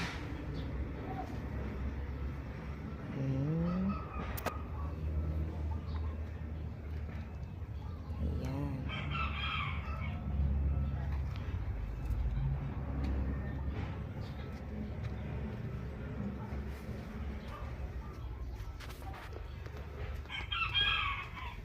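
Chickens cluck intermittently in an outdoor yard with a steady background hum, and a rooster crow rises briefly in the middle.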